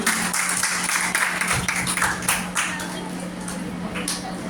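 Students and staff applaud at a college Teachers Day celebration, honoring the vice principal, with scattered clapping and a steady hum underneath, fairly loud and continuous.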